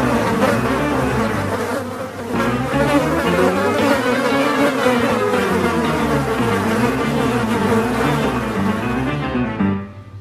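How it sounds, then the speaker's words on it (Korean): A housefly buzzes loudly and close up, a continuous droning hum with a rising and falling pitch that carries on for about ten seconds before cutting off abruptly. "fly."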